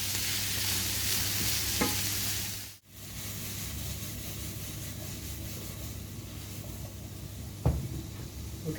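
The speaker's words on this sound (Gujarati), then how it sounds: "આવી રીતે આપણે બધું સરખું સ્ટર કરીશું." Noodles being stir fried in a pan give a steady, close sizzle, with soft scraping from stirring throughout and a brief break in the sound partway through.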